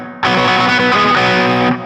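A distorted electric guitar plays a quick riff from a song: chugging, repeated notes, loud and close, with no voices.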